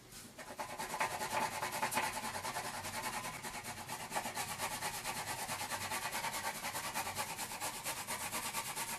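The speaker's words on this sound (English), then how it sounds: "I'm using the side edge of the crayon to do this." A crayon, its side edge rubbing across paper while coloring, makes a steady, soft scratchy rasp that continues for the whole stretch with no pauses, close and quiet, with no voices.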